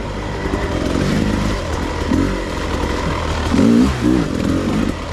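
A 2022 Beta 300 Race Edition two-stroke dirt bike being ridden off-road, its engine droning steadily and loudly throughout with a couple of brief revving surges toward the end, no talk.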